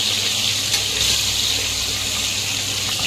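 Cut potatoes fry in oil with a little turmeric and salt, a loud, continuous hissing sizzle held steady throughout, close up, with faint stirring and no speech.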